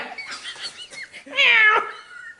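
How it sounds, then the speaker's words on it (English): A cat meowing at a house door, one clear drawn-out close meow after a stretch of softer chirpy sounds and faint voices. "This cat trying to come in my house."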